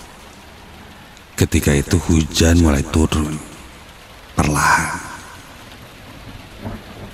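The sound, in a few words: rain starting to fall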